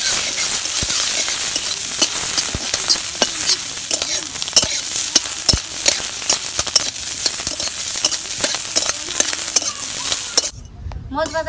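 Taki fish and fish brain being fried in hot oil for a mashed fish dish, giving a steady loud sizzle with scattered crackles and stirring scrapes, broken off abruptly near the end.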